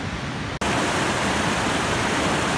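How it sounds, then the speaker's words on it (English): A small waterfall at an old mill site in Chambersburg rushes in a loud, constant roar of falling water, broken by one brief cut near the start. "This little waterfall is why Chambersburg is here."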